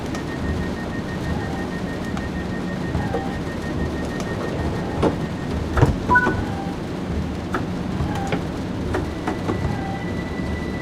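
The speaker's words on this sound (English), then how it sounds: "The rain's letting off, which is good." Steady rain falls in the Train Sim World 5 game around Brighton, a soft even hiss with a low rumble beneath and a few faint chimes and tones, no voices.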